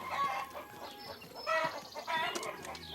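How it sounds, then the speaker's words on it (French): Hungry cartoon hens clucking and squawking in a busy, overlapping flock, with bursts of agitated calls rising and falling close by. "ces poules affamées"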